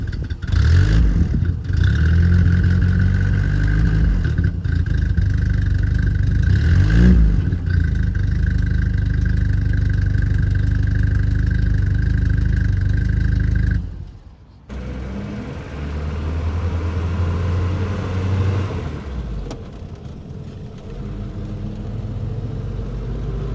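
A 1950s Standard Vanguard Phase 2 engine runs steadily, recorded from outside the car, a loud continuous idle with brief revs, then a dip and a quieter, rougher running stretch.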